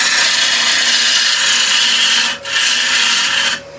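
Wood lathe turning a bowl from scrap wood, a loud, steady whirring hiss of the spinning blank and cutting tool, briefly dipping twice as the cut pauses.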